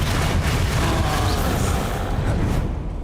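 A continuous, loud, dense roar of the Bombarda spell explosion in the video game Hogwarts Legacy, rumbling heavily and easing slightly toward the end, with no voice over it.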